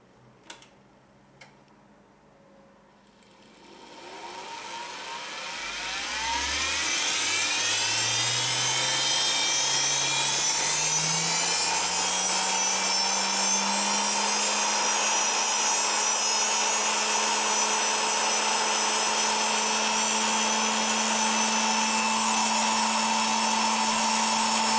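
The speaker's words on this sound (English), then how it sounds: "The motor is running at a constant speed." A power tool motor on an isolation transformer at reduced voltage starts after a few faint clicks, whines up in pitch and then runs at a constant speed with a steady, close, loud electric hum.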